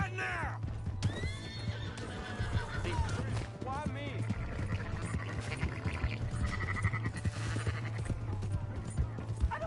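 A horse whinnies and hooves clip-clop amid game-style effects and music in Red Dead Redemption II, with a person shouting briefly over the action.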